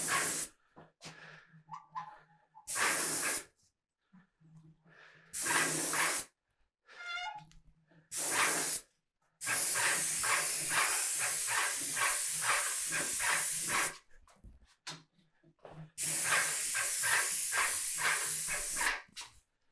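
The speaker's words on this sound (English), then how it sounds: "airless spraying versus HVLP spraying" A paint sprayer coats cabinet doors in repeated bursts of loud, harsh hiss, some short and some several seconds long, separated by quiet pauses with faint handling noises.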